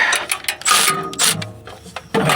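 Bolt being tightened on the starter of a Corvette C4 in a cramped driveway repair, heard as close, uneven bursts of ratcheting clicks separated by brief pauses.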